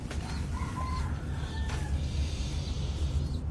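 Small pink chick peeping close by, a series of brief high chirps scattered over a steady low background hum.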